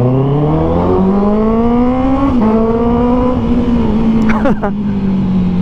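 A 2024 Honda CB650R E-Clutch motorcycle with an upgraded aftermarket exhaust idles close by, its four-cylinder note steady and raspy with a couple of short blips of throttle rising in pitch before settling back.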